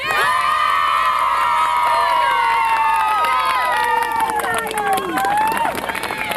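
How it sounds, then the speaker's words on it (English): A crowd cheers loudly for the Tigers, a dense mix of shouting, whooping and high children's voices sustained through the whole stretch, close and bright. "how about a big cheer for the Tigers?"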